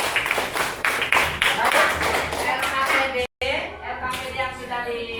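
A sixth-grade classroom of children bursts into quick, rapid hand clapping for the first few seconds, then it fades as a teacher's voice continues with faint room noise.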